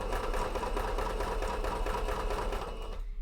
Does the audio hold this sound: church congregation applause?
no